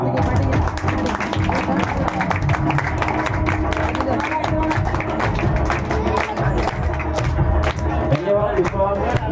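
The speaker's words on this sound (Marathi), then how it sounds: "जोरात टाळ्या वाजवा" An audience at a student felicitation ceremony held by a Mumbai community group claps in a dense, sustained round of applause, with a voice speaking over it and crowd murmur underneath.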